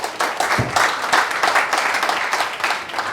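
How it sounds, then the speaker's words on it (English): An audience at a Nigerian networking workshop applauds with steady, dense clapping throughout, fairly close and loud, with little talk over it. "Let's appreciate him and give him a round of applause."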